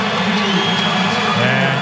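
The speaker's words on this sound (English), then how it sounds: "listen to this crowd salute Markus Burton and Carey Booth" A basketball arena crowd cheers steadily in a dense, roaring wash of voices saluting players during an ACC men's game, with no individual voice standing out.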